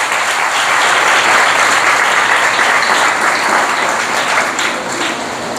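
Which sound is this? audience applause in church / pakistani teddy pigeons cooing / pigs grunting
audience applause in church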